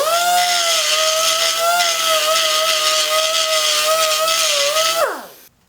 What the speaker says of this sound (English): I'm just going to dull them with a die grinder